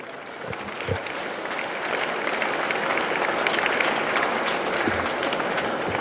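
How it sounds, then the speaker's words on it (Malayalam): Students at a school class assembly clap together in a steady, dense round of applause that holds for several seconds, moderately loud and close, with no speech over it. "അതിനും നല്ലൊരു കൈയടി അവർക്ക് കൊടുക്കാം."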